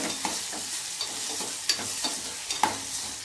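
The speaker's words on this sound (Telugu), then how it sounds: "ఇప్పుడు పసుపు కలిపేసుకుందాము." A spoon stirs turmeric into cooked dal in a pot for Telugu pappu charu, giving a string of soft, irregular scrapes and light clinks close by, with no talking.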